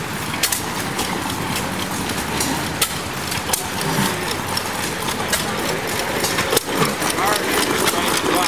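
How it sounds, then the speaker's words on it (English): A 1915 Novo mudsucker diaphragm pump engine runs at an outdoor tractor festival in a town green, its steady chugging mixed with puffs and sharp knocks, with people talking nearby over the mechanical rhythm. "1915 Novo mudsucker pump."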